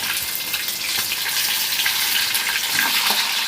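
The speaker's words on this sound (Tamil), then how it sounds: "இப்போ பார்த்தீங்கன்னா நல்லா மீன் வறுபட்டுருது." Fish marinated in masala frying in a pan at home, a steady, close, loud crackling sizzle with no pause for its full length and no talking.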